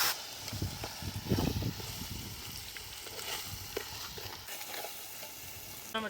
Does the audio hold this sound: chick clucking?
no